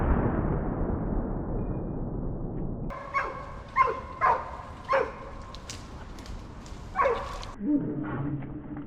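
A hunting dog barks during a wild boar drive in the woods, several sharp barks at moderate distance after a stretch of rushing noise, with a low rumble near the end.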